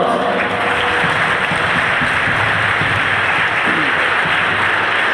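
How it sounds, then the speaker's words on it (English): Audience applause at a magic show, a dense, sustained burst of many hands clapping that stays loud and even throughout, with faint voices mixed underneath. "Ladies and gentlemen, give him a round of applause."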